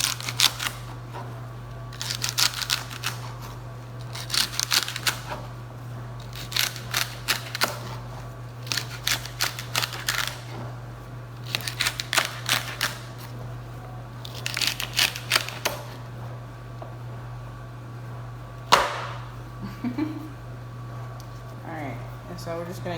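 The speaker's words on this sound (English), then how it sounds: "we're just going to keep cutting until you get to the master celery" Celery stalks for a pot roast sliced with a knife on a cutting board, crisp chopping strokes coming in bursts of quick cuts with pauses between, close up over a steady low hum.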